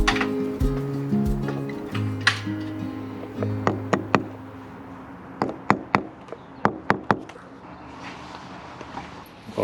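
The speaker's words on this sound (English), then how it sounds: "Tap them in a little bit with the hammer" A hammer taps wall plugs into brick in a series of sharp, light taps close by, irregularly spaced and growing more frequent, with quiet handling noise between them.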